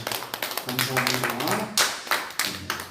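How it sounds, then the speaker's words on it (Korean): A church congregation at a Korean Friday prayer service claps for the worship team, a short burst of scattered hand claps while a voice speaks over it. "우리 찬양팀을 위해서 한번 박수 한번 해주십시오."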